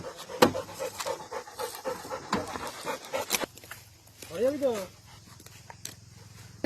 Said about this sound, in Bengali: এখন চিকু হলো হাঁপিয়ে গেছে